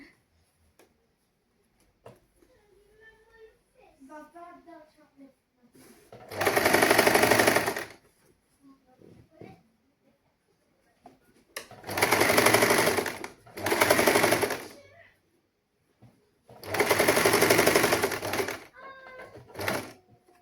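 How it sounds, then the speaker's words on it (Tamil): A sewing machine stitches a saree blouse in three loud, close bursts of rapid mechanical whirring, separated by quiet pauses, with soft talk early on. "கவனமாக நாங்கள் தைக்க வேணும்"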